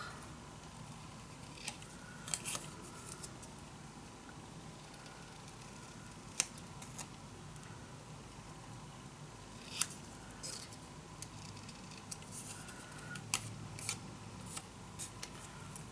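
Scissors cutting leftover fabric scraps for small pockets, a series of faint crisp snips at irregular intervals over quiet room hiss.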